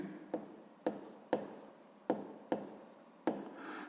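A pen scratches across paper in short, separate strokes, about six quiet scratches spread over a few seconds, close up and alone while math exercises are worked out by hand.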